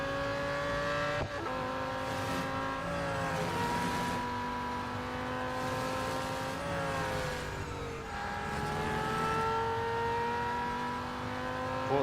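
Race car engine in Real Racing 3 holding a steady high whine through a sharp corner, its pitch dipping and climbing with gear changes and throttle, loud and continuous with no skidding.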